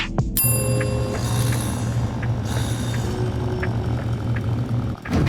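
A bright elevator arrival chime rings out once in a video game, followed by light mechanical clicks and ticks over a low steady hum.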